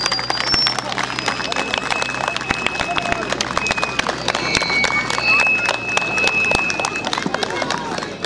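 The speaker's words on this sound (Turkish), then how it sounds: "Alkışlarımız eksik etmeyelim" Wedding guests break into sustained clapping, a dense patter of many hands with crowd noise and a few thin whistle-like tones over it.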